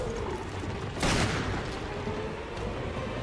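A single sharp gunshot cracks in Resident Evil Revelations over a dense, rumbling background, followed by a low roar that lingers, with no talking.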